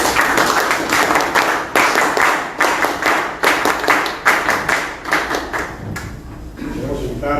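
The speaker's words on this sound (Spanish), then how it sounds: "Un fuerte aplauso" Applause at a public presentation, a crowd clapping in loud rhythmic bursts that swell and fall in regular waves before fading near the end, with a voice briefly audible as it dies down.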